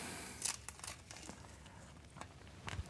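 Tape is peeled off the caps of a U-joint on a rock buggy driveshaft, giving faint, scattered crinkling and tearing sounds in short bursts close by in a quiet garage.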